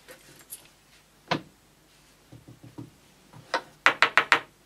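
A bunch of keys jangles and clinks in short bursts, quiet at first and then a quick run of four sharper, louder metallic rattles near the end, close by and with no talk.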